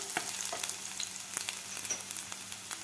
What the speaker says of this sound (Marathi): आता आपल्याला हे थोडंसं परतून घ्यायचं आहे, जास्त लाल नाही करायचं.